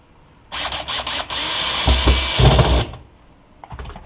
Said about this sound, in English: turn your DeWalt drill up to 21 and either strip the screws